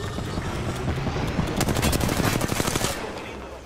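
Fuse's cluster bomb goes off in Apex Legends: a rapid, loud string of small blasts crackles and pops for about a second and a half, set against constant game noise.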